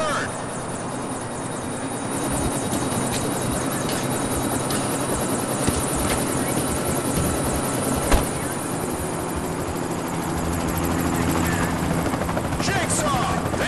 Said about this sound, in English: Chopper's here, Jigsaw!